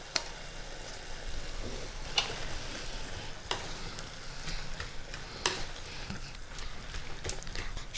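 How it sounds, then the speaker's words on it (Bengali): Lentil paste being stirred into mustard greens in a hot oiled pan, with a steady close sizzle, scraping spoon strokes and a few sharper clanks against the pan throughout. "শাকের সঙ্গে খুব ভালো করে মিশিয়ে দেব এই বাটা ডালটা।"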